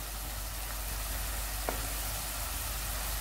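Onions, garlic and seasonings with tomato sauce ingredients frying in a pan for spaghetti sauce give a steady, close broadband sizzle with a single faint clink near the middle, no voices.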